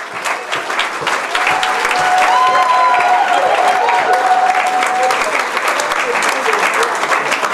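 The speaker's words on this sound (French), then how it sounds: "On acclame le nom de Jésus-Christ." A church congregation applauding during a sermon, with loud, sustained clapping from a large crowd across the whole stretch and a faint voice under it.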